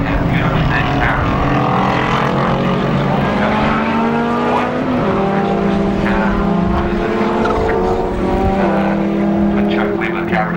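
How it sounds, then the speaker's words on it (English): Race cars run at the 1996 Skope Classic at Ruapuna, including a 1994 WRC Turbo. Loud engines drone and shift in pitch the whole time beneath a commentator's voice. "the next driver back would be David Craw in the 94 WRC Turbo"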